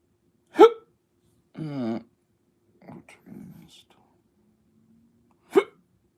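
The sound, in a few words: hiccups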